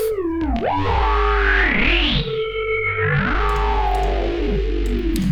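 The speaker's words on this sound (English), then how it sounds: "this thing turns like the very basic sound that we've made into like very ambient bass, trippy stuff" A thick, droning Cyberpunk 2077-style synth bass drenched in distortion and effects, with sweeping, warbling tones that rise and dip in a spacey, trippy ambient wash, loud and continuous.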